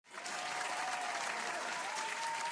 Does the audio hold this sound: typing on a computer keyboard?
no